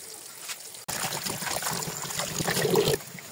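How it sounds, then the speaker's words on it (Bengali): Water from a tap runs and splashes steadily while leafy greens are washed by hand, starting abruptly after a short quiet moment and continuing with irregular trickling and splattering before cutting off. "আর এদিক দিয়ে আমি শাকগুলোকে ভালো করে ধুয়ে নেব"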